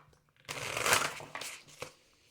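A single riffling shuffle of tarot cards, a close rustling burst of flicking cards that fades out, with quiet moments before and after.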